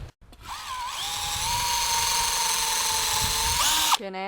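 A battery power drill spins up and bores through wood in one continuous high whine lasting a few seconds, its pitch dipping under load before stopping, close with no speech.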